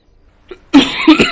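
A person coughs several times close to the microphone during a game of Empire: Total War, with a small throat sound first and then two or three loud, harsh coughs.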